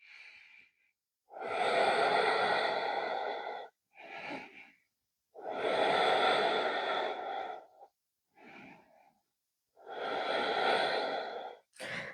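Deep, slow breathing during a yoga backbend: three long, loud airy exhales, each followed by a shorter intake of breath, evenly spaced and close.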